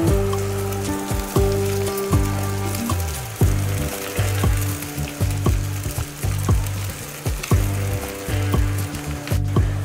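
Poha flakes tipped into a pan of sizzling turmeric, asafoetida and a little coriander for batata poha; steady frying sizzle with soft crackles runs under a tonal background melody throughout.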